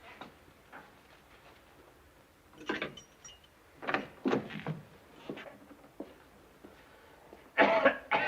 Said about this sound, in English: His cough is worse.